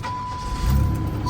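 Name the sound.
GM pace car engine starting with keys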